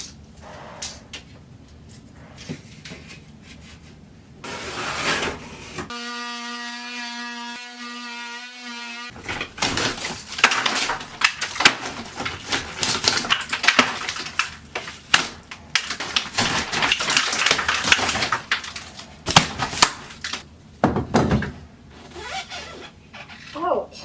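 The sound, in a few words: cutting out drywall along a stud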